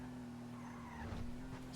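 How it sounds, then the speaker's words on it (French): A heavy car in Grand Theft Auto drives with a constant engine drone and a steady hum, and a brief tire squeal and skid rise midway through the short stretch. "ça, c'est une voiture de chill, mon Carlos."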